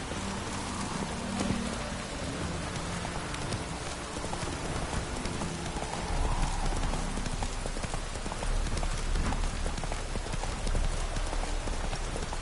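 Roach the horse's hooves clop at a steady walking rhythm in The Witcher 3 video game, heard under a constant wash of heavy rain pattering on surfaces.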